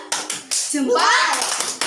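Children in a second-grade classroom do a thumb clap, a few sharp, close claps separated by a chanted, sing-song group voice.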